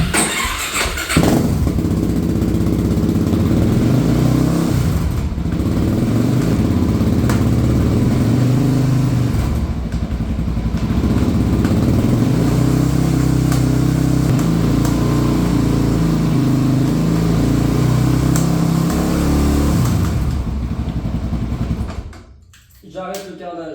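A damaged Suzuki DRZ motorcycle engine with a broken gearbox runs loudly and roughly for a long stretch, its uneven idle wavering before it cuts out near the end.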